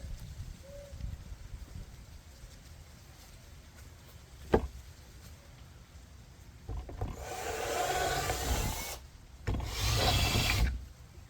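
A power drill bores into a sugar rocket in two sustained grinding bursts, close and fairly loud, after a sharp knock and some quiet handling noise.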